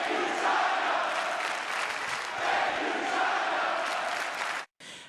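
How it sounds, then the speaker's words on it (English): A large wrestling arena crowd at WWE WrestleMania 35 chants Chyna's name in a dense, roaring wave of voices that swells and rises over about five seconds before it cuts off abruptly. "Chyna chants."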